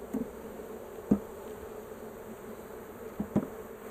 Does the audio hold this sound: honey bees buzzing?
yes